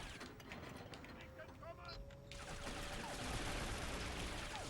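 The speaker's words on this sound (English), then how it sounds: "And you can shoot them through the wall" Dense, steady gunfire in the James Bond video game Nightfire, with sharp overlapping shots that grow louder and fuller partway through and continue without pause.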